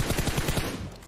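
A short burst of rapid gunshots in PUBG Mobile, loud and close, about half a dozen evenly spaced shots that then fade out.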